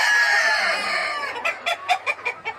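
Close by, a rooster lets out a long crow, then chickens cluck in quick, uneven bursts.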